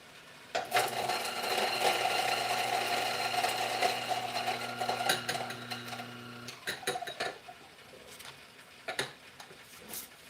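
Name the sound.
coffee grinder grinding and purging coffee beans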